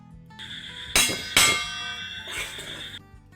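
A lid goes onto a cooking pot of simmering mixed vegetables, giving two quick metallic clangs close together that ring briefly, followed by a softer scraping settle.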